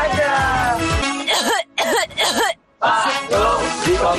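Loud, close throat-clearing and coughing bursts for a cough medicine television advert, separated by brief silences, with sung and spoken voice around them.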